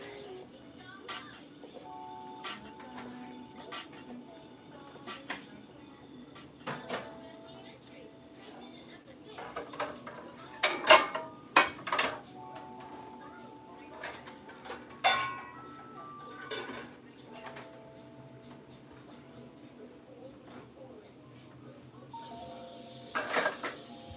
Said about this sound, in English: let me get the skillet on and get it heated up